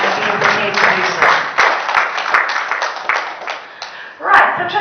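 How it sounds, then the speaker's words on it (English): An audience claps in a round of applause for volunteers at an event, fairly loud and close, with voices talking over the clapping and a brief swell near the end. "So a big round of applause for them for giving up their time and being prepared to do so"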